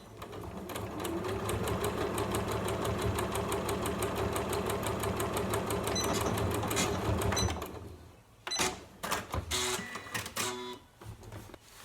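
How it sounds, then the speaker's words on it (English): A sewing machine runs steadily while sewing a felt-lined fabric storage caddy, then stops and gives a few short, choppy bursts of stitching as it back tacks. "I'm going to sew up here to here and stop and back tack"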